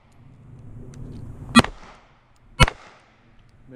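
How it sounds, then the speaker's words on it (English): Two loud, sharp pistol shots ring out about a second apart at a USPSA match, close by over a quiet background with faint murmur, with no talk. "Shoot all targets twice freestyle, reload, shoot all targets strong hand only."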